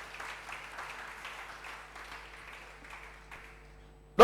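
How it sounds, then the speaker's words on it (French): A church congregation applauds for the Lord, a soft, steady patter of many hands clapping in a room, moderately distant, ending with a sudden loud thump. "Put your hand together for our Lord."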